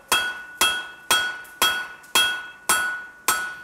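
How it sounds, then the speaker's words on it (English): A hammer forges hot steel stock on an anvil for blacksmith tongs, striking seven loud, evenly spaced ringing blows in a steady rhythm. "Okay, let's get this bit of stock nice and hot."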